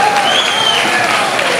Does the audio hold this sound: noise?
no